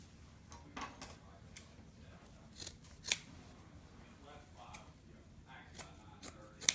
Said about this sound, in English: This is the only time we are cutting the burlap is at the end.